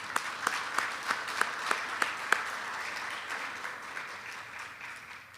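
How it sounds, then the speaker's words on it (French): An audience at a closing ceremony of a journalist economics training applauds, a wash of many hands with a few rhythmic, sharper claps early on, then fading to a softer, fainter patter. "Applaudissements à Kessner Farrell."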